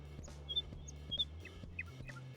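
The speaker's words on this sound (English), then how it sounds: "Lots of bird sounds." Ambient birds chirp and tweet in Escape from Tarkov, short high calls repeating every half second or so over a low steady game hum, fairly quiet.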